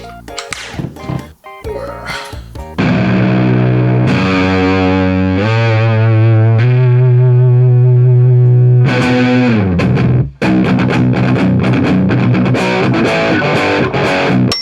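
A loud, heavily distorted baritone electric guitar with 12–62 gauge strings plays chugging muted riffs and long sustained chords, with brief pauses between phrases. No talking.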